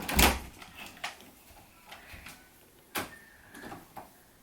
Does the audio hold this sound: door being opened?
yes